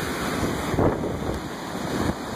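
Ocean surf and strong wind batter the shore at Dog Bar in Gloucester during a December nor'easter, a dense, steady roar with heavy wind buffeting and breaking waves close by, no voices.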